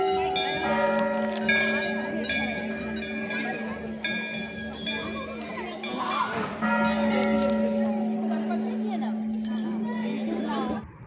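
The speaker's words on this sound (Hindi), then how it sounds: "जैसे कि आप लोग देख रहे हैं यहाँ पर बहुत सारी घंटियाँ बंधी हुई हैं।" Many small temple bells hung up as votive offerings, ringing and clinking with sustained overlapping tones at moderate volume while people talk and children are heard in the background.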